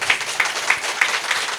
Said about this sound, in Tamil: ஜோரா கைதட்டுங்க.